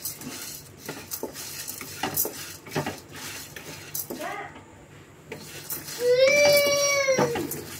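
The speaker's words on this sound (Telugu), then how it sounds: "తాలింపు అయితే ఇలా మానేయకుండా వేపుకోవాలండి." A tempering of spices for a coriander-tomato chutney fries in a pan while a utensil stirs it, giving repeated sharp clinks and scrapes over a faint sizzle, with a high squealing tone near the end.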